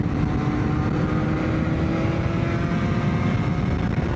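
A BMW K1300R motorcycle accelerating uphill on a Helmsley TT road ride gives a loud, sustained engine roar with a rising drone and steady rumble, close and continuous throughout with no talk.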